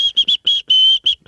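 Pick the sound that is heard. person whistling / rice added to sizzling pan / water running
person whistling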